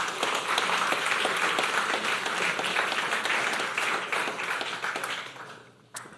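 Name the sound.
audience applause for speaker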